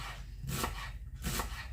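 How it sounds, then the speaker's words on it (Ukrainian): Two knife strokes chop through onion on a board, each a sharp crunching thud, close and clear, with a low background hum. "Нарізаю цибульку."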